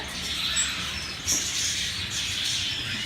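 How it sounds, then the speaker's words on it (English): Small birds in cages at a pet store give scattered faint high chirps and tweets over a soft room hum, with a couple of brief brighter calls and no speech. "Look at all the birds over here."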